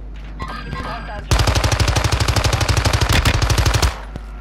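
Automatic gunfire in the video game Call of Duty: Modern Warfare II: a single loud, rapid burst lasting about two and a half seconds, preceded by quieter in-game sounds.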